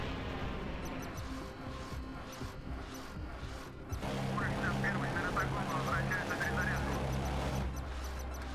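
Mi-35M attack helicopter in the naval combat game Modern Warships, a steady rotor and engine drone that swells louder halfway through and holds close and continuous under game effects.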